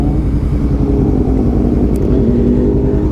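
Motorcycle idling and creeping forward at an intersection beside parked cars, a loud, close, steady low rumble with a faint whir and no clear revving.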